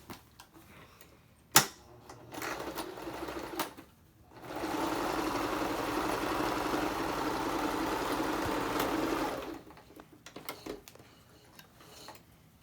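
A sewing machine runs one steady, sustained burst for about five seconds, stitching a wide seam on a cloth Boomerang Bag to enclose raw edges, close and loud, with brief handling clicks and a whir before and after.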